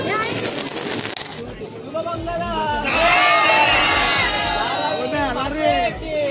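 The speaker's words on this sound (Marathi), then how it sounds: "गर्दी पण खूप आहे बघा." A large crowd fills an Aagri wedding reception with dense, overlapping chatter and raised voices. The babble rises and swells midway, with lively calls throughout.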